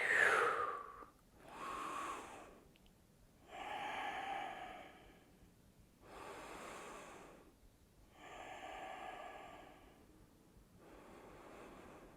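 Slow, deep breaths drawn during a yoga pose: five or six soft, close inhale and exhale cycles, each a breathy rush with quiet pauses between, and no talking.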